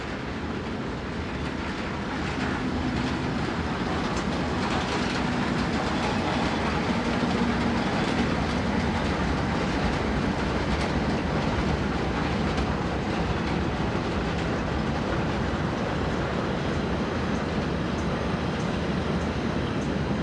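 Locomotive 11628 slows for a pathing stop while hauling a southbound freight of loaded car carriers on a busy European main line, giving a steady, close rumble and clatter of wheels and wagons for about twenty seconds with no talk.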